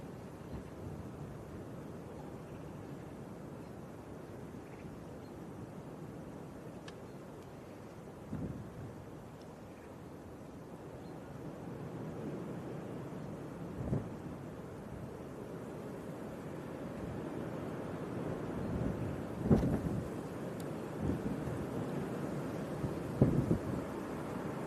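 A Virgin airliner takes off at Manchester Airport on a stormy day, heard as a distant, low, steady roar that slowly swells, mixed with wind rumble and gusty buffeting on the microphone.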